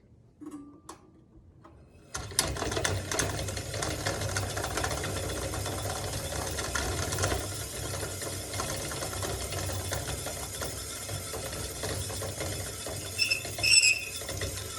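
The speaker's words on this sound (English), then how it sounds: "That commutator is really important for making an electric motor work." A small brushed electric motor with a commutator switches on after a couple of seconds and runs steadily with a rapid buzzing, ticking rattle, fairly close and continuous, with a brief louder blip near the end.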